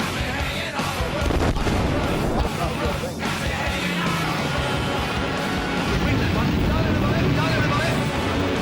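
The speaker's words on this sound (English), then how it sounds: "Enemy aircraft are now bombing the aerodrome." Dense, continuous rumble of bombs exploding across an aerodrome during an enemy air raid, with heavy booms and crackling bursts blending together at a constant loud level and no clear gaps.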